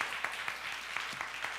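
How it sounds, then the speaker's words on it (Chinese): A congregation at a Sunday church service applauds to welcome a first-time guest, giving a short burst of soft, steady clapping from many hands with a few sharper individual claps standing out. "要拍手就拍大声一点了哦"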